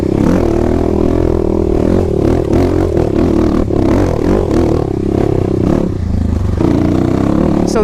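A 2021 Kawasaki KLX300 dirt bike fitted with a Barker exhaust system runs loud and close, its rough, throaty engine revving up and down in repeated pulses over clattering mechanical noise.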